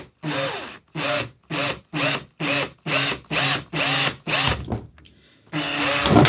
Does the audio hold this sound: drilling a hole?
yes